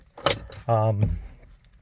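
A key fob for a 2024 Kia Sorento Hybrid SX Prestige jangles close up in a short metallic burst, followed by a brief tonal chime or beep and some light handling noise.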